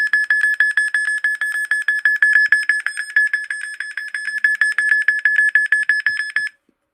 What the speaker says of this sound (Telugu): అలారం వస్తుంది